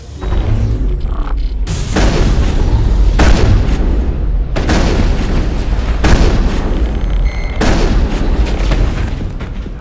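Loud, rumbling bursts of gunfire and heavy explosions erupt in several waves, with deep booms and crackling decays, during a firefight in Mass Effect's Noveria Rift Station labs.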